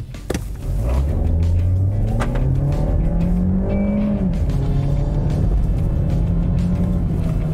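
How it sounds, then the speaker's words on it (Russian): A 2020 Volkswagen Polo with a 1.6 engine accelerates hard in sport mode, its loud, close engine note climbing steadily in pitch through the gears with no talking over it. "да, на спорт-режиме мы здесь достаточно хорошо разгоняемся"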